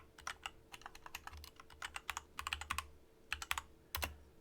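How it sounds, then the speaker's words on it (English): Clacky computer keyboard close to the microphone, with a quick, irregular run of sharp key presses, some in bursts and some singly, over a faint steady hum. "I have a clacky keyboard, so you guys can definitely hear every key press"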